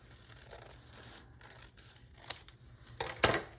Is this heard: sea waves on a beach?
no